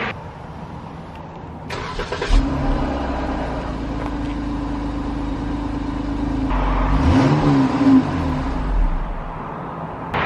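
A Dodge Durango SUV engine cranks and starts, then idles with a deep rumble before revving up once and settling again, fairly close and with no talking.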